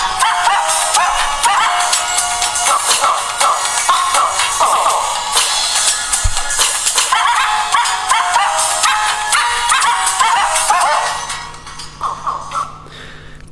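Dog barks cut from a handful of viral videos and stitched into a dense, rhythmic run of bow-wows and yips, loud and close, before they thin into a few scattered barks and whimpers at the end.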